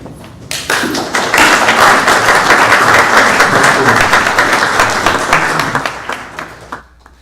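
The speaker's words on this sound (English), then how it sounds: "I know it felt a little odd to applaud in that moment" A room full of people gives a loud, dense round of applause at a spiritual gathering, rising quickly, holding steady for several seconds and then tapering off to a few last claps.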